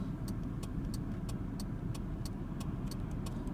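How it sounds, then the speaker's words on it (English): Steady rumble of car traffic heard from inside a moving car, with a continuous low road roar and a repeating faint ticking, no voices. "The traffic just keeps coming."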